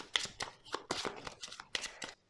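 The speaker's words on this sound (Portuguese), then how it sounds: "vamos juntar as 6 cartas rabelo nevoeiro e vamos baralhar novamente" Cards for the Douro 1872 board game are shuffled by hand, a quick run of crisp riffling snaps in an irregular rhythm, close and fairly quiet, then stopping.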